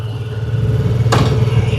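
A BMW F450 GS motorcycle idling just after starting, a steady low engine rumble close by, with a brief sharp clack midway through.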